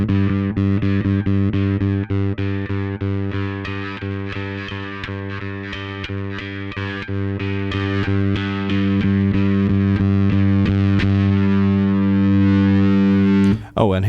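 Darkglass Microtubes X 900 bass distortion pedal driving a bass guitar: a rapid run of picked, growling overdriven notes over a steady low drone, then a long sustained distorted note that rings out before cutting off abruptly.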